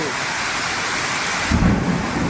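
Heavy rain pours down at night at a Shiva temple in Vadagara, Siddhantapura, a loud dense hiss, with a low rumble of thunder rolling in partway through.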